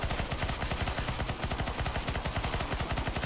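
Rapid automatic gunfire in a CS:GO zombie escape map, a fast, steady stream of shots with overlapping weapons firing nonstop, loud and close, no talking.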